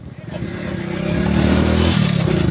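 A motorcycle rides into a college campus, its engine close and loud, building from a low rumble into a steady, rising drone as the bike moves forward.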